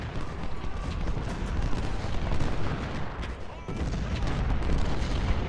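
Massed musket gunfire in the Civil War video game Ultimate General: Civil War, a dense continuous crackling volley with dull booms layered throughout, steady and loud with no clear pauses.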